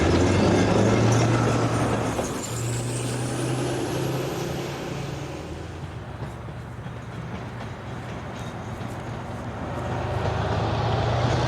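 An ex-SNCF Class BB 62400 Alstom diesel locomotive works a freight line. Its loud, broad engine rumble and wheel roar fill the scene, ease off slightly mid-pass, then swell again, with a rising high whine early on.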